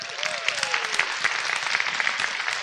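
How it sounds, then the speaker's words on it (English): Audience applause for guest speakers at a lifestyle seminar, a dense, steady wash of clapping heard from a distance, with a faint voice briefly audible at the start. "Give them a round of applause"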